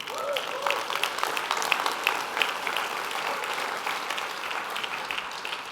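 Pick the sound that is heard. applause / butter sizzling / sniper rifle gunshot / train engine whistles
applause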